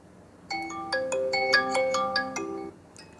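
A ringtone melody plays through the single speaker of a Vivo Y55 phone, a bright chiming tune of repeated notes lasting about two seconds, near and fairly loud, with no talking over it.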